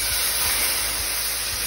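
Chopped broccoli and other vegetables steaming in a hot pan after a splash of water is added, giving a continuous broad hiss and sizzle that stays loud and even throughout, with no talking.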